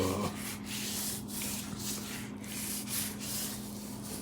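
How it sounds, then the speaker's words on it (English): Dry rub of brown sugar, chili powder, cumin and kosher salt is rubbed onto St. Louis style pork ribs, a steady close gritty rubbing and scraping with a faint rhythmic swish, fairly quiet and without voices. "Putting on the dry rub, which is mostly made up of"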